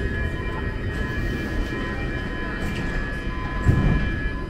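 A Stockholm metro red line train hums and rumbles in the station, with a steady mechanical drone and faint rail clatter from moderately near, plus a brief louder thump near the end.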